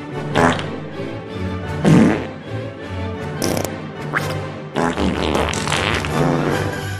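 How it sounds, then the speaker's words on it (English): A series of exaggerated, gigantic fart sound effects blurt out in several bursts of varying length, loud and close, mixed with other comic noises and no talking. "They bent down with their buttocks showing as they let loose one gigantic fart."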